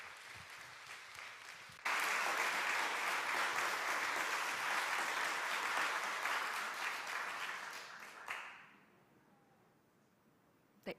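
A church congregation at a Wednesday service claps in a big, sustained burst of applause. It fades out after several seconds into near silence, broken by one faint click.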